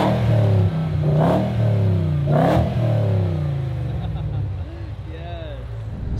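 A 2013 Subaru Forester swapped with a 6.2 LSA supercharged V8 and a six-speed Cadillac transmission revs hard from inside the cabin, the engine note rising twice and then settling as it cruises, loud and close, with people talking over it.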